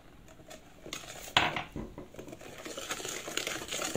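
Cake batter with butter being mixed in a bowl, close clinking and scraping of a utensil against the bowl in uneven strokes, fairly quiet.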